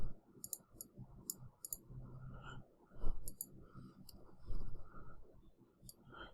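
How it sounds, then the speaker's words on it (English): Computer keyboard typing at close range, irregular bursts of crisp clicks and key taps with short pauses between, fairly quiet and alone without speech. "I'll just type it."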